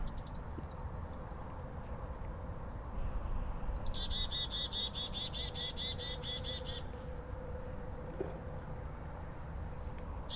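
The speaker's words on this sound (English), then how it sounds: "You hear that little bird?" A small bird chirps in short bursts, a quick twittering trill in the middle and brief calls at the start and end, over a low background hum.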